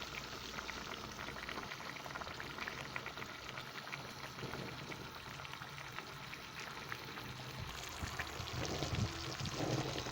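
Chicken simmers in its own juices with tomatoes and potatoes, no added water, in a pot over very low heat, giving a soft continuous bubbling and sizzling hiss, close and fairly quiet throughout.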